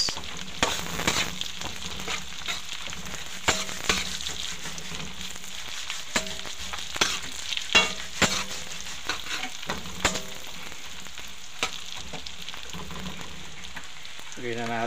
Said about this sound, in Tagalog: Gisa natin guys.